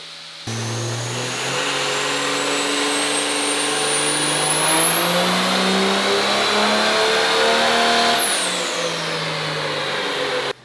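A twin-turbo car engine roars through a dyno pull of about 1077 horsepower, its pitch climbing steadily alongside a rising turbo whine for roughly eight seconds before the revs drop off sharply at the end.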